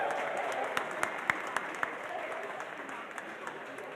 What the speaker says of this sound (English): So let's give a round of applause for the Boston Public Libraries.